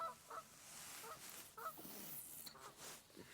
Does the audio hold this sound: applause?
no